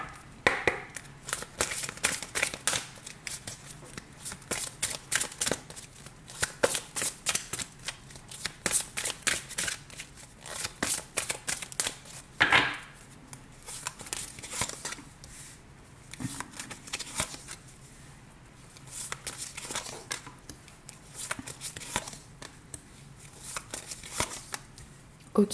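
Tarot cards are shuffled for a reading in a long run of rapid riffling and slapping bursts, close and continuous with brief pauses, with no talking over them.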